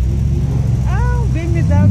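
A BMW car drives by along a street in Jönköping, Sweden during a student celebration, its steady engine rumble loud and close while a voice talks over it.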